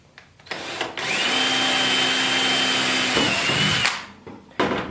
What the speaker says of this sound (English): Now we can drill our second one.